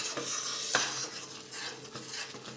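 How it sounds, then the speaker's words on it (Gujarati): Roasted gram flour for mohanthal being stirred in a hot wok with the heat off, as a metal spatula scrapes and taps against the pan in a few clear strokes over a faint hiss; no speech. "થોડી વાર સતત ચલાવતા રહેવાનું ગેસ બંધ કરીને"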